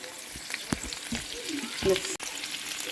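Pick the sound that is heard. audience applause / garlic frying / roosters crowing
garlic frying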